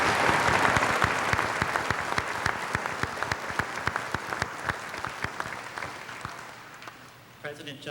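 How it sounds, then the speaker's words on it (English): A large audience at a high school commencement claps steadily for the class of 2009, dense, sustained applause that gradually thins out and fades near the end. "Let's give a round of applause to the class of 2009 for their commitment to community service."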